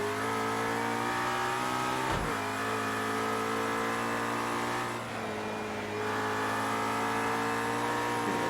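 A race car engine in Project Cars 2 on a bumpy circuit holds a loud, buzzing high-rev drone, with two sharp dips as the driver shifts gears before the revs climb again.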